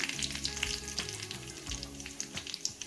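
Cumin seeds and dried red chili sizzle in hot oil in a pan, giving a close, continuous crackling fry with bright popping spatters and faint stirring throughout.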